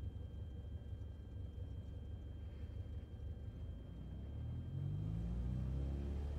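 A small bush plane's engine in Microsoft Flight Simulator drones at a low steady rumble, then swells louder as the revs climb toward the end, with no talk over it.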